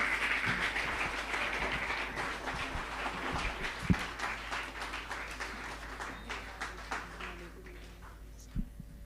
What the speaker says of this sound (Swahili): put your hands together as we welcome our facilitators